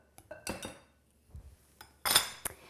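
Knife cutting butter into a flour mixture for biscuits, a few irregular metallic scrapes and clinks against a bowl, close and sparse with quiet gaps between strokes.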